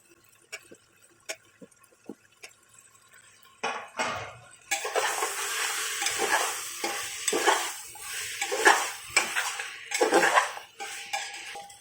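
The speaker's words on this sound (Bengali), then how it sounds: "পেঁয়াজ টমেটো মোটামুটি ভাজা হয়ে গিয়েছে এবার আমি এইগুলোর সাথে অ্যাড করে দেবো সবজি কেটে রাখা বিনস গাজর আর আলু" Light clinks of a utensil at first, then a loud burst of sizzling as beans, carrot and potato go into frying onion and tomato, followed by repeated close stirring and scraping in the pan.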